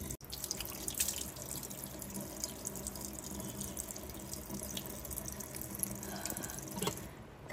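Water from a running tap splashing steadily while a face is washed in circular motions to rinse off a face pack, close and continuous with small splashes throughout.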